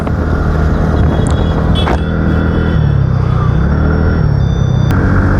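A car engine rumbles loudly and continuously from inside the vehicle as it crawls along a jammed road, with faint horn-like tones and traffic noise in the background.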